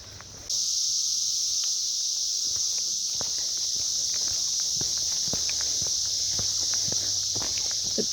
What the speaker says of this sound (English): They're pretty loud over here, the cicadas.